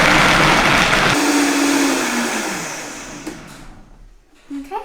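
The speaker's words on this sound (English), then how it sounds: "this is a Vitamix, so it can cope with the nuts and the dates together" A Vitamix blender grinds nuts and dates at full power, a loud dense whir that drops sharply after a second and winds down with a falling tone until it fades to near quiet.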